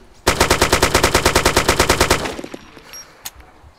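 A rapid burst of automatic gunfire, about twenty evenly spaced shots, loud and close, followed by a few scattered single shots and quiet.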